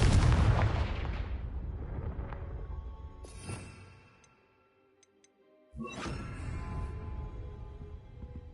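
A Confringo spell blast in Hogwarts Legacy erupts loudly at the start and decays over a few seconds, followed by a lull and a second strong burst of magical impact with tinkling, ringing tails.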